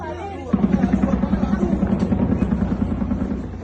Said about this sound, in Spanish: helicópteros estadounidenses ahora mismo controlan el aeropuerto internacional de Caracas